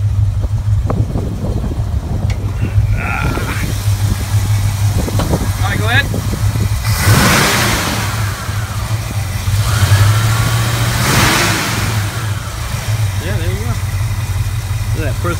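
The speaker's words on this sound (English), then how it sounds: "rev the motor for you" A 1974 Ford Gran Torino with its hood open idles close up with a steady low rumble, revved twice in sharp rising bursts before settling back, while voices talk over it.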